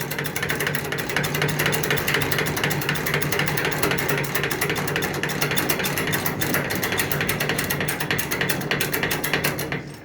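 A ratcheting hand pump is worked steadily to raise a bar mechanism, giving a dense, continuous run of fast mechanical clicks and clatter at close range for the whole stretch, with no pauses.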